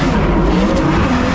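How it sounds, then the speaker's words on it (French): Corvette race car accelerating hard at a hill climb, a loud, dense engine roar close by, with no break across its brief span. "ça part très fort dans sa corvette"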